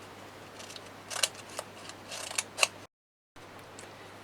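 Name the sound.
cutting paper around a toilet paper roll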